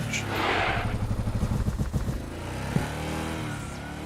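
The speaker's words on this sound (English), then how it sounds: "my bus has arrived." A bus pulls up in the video game Gacha Capsule Shop: a moderately quiet engine rumble with rhythmic clattering that settles down, and a single soft thump near the end.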